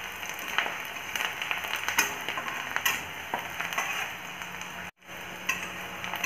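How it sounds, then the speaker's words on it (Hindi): Onions fry in a pan with green chilli and ginger-garlic paste, giving a moderate, continuous sizzle with frequent spoon scrapes and clinks, briefly cutting out for a moment before resuming. "प्याज को हम दो मिनट तक फ्राई करेंगे"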